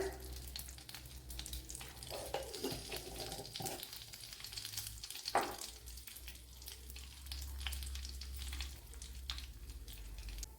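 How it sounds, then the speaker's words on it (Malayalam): Mustard seeds sputter and pop in a tablespoon of hot ghee, a steady near sizzle with sharp crackles and a few louder pops, heard alone without speech. "ഇവിടെ കടുക് പൊട്ടിയിട്ടുണ്ട്."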